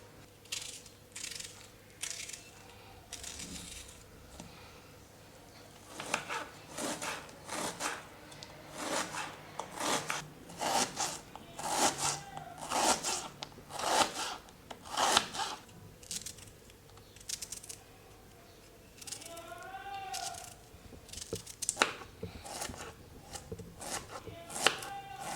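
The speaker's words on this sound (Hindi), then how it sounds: "एक प्याज और 5 लहसुन की कलियां, इनको चॉप किए लेते हैं बारीक बारीक सा" Onion and garlic cloves are chopped finely with a knife on a board, in a long run of quick, crisp knife strikes in irregular bursts, close and moderately quiet.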